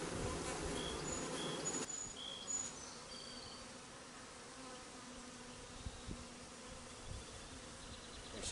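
Honeybees buzz steadily around an open hive during a summer inspection of frames with started comb and brood, a dense close swarm drone with a brief louder burst near the start.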